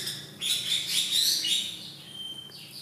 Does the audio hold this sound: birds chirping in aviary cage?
yes